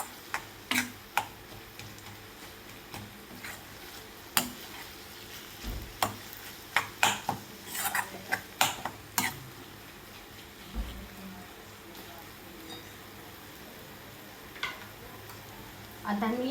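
Paneer bhurji stirred in a pan, steady soft sizzling under repeated scraping and ticking of a spoon against the metal, close and moderately quiet.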